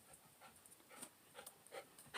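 A dog indoors pants in quick, soft, uneven breaths while scratching itself, faint and close in a quiet room, with no talk.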